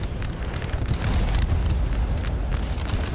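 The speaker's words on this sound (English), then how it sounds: "I think they got some artillery." Artillery in a 3v3 Napoleon Total War mod battle thunders as a dense, continuous roar of booms and crackling bursts, loud and steady, with no clear separation between shots.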